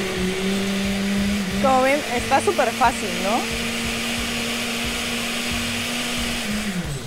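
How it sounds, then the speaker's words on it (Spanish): A kitchen blender whirs steadily as it blends corn flan ingredients, a continuous loud motor hum running alone for a few seconds, with someone talking briefly over it. "ahora vamos a licuar nuestros ingredientes. ¿No escuchen la licuadora?"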